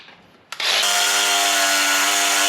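A jigsaw starts up after a brief quiet moment and runs at a steady high whine while cutting wooden cabinet trim being scribed to a wavy wall, loud and close with no talking.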